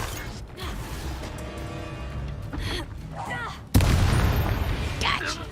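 Confringo fire spell cast in the Hogwarts Legacy video game, a sudden loud burst about two-thirds through that lingers as a dense rumbling roar, following game noise and mechanical creaks with some voice activity.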